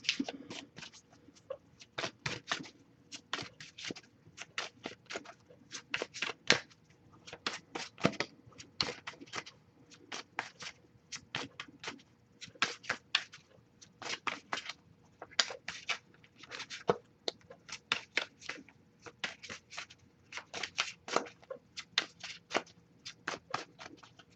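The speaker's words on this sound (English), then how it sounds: "usually I'll shuffle for about a minute, see if we get anything that pops up" Tarot cards are shuffled by hand over and over, a continuous run of quick, crisp riffling snaps and soft slaps, close and fairly quiet.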